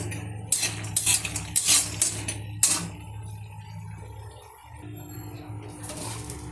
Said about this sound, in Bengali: বড়িটা আমি কম জালে একটু ভেজে নেব সুন্দর করে।